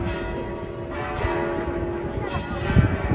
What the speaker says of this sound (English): And there we go, the Duomo is ringing the bells.